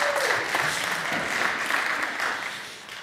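A morning gathering of listeners gives steady, continuous applause for the whole stretch, dense and fairly close, with no voices standing out.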